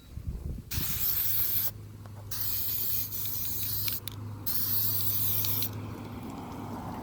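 Spray can laying high temp paint onto cleaned, wire-brushed stock brake calipers, several close, loud hissing bursts of a second or two each, separated by short pauses, with a low hum underneath and no talking.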